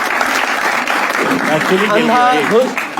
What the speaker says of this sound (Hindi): एक बार जोरदार तालियां हो जाए श्रेया प्रियम के जबरदस्त खेल के लिए